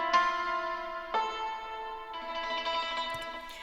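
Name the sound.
Native Instruments yangqin melody with EQ and reverb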